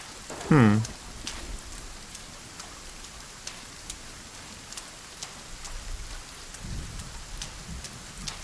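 Rain in the video game Sons of the Forest falls steadily, a constant hiss of drops on surfaces with faint distant rumbles and a brief sharp sound near the start, without speech.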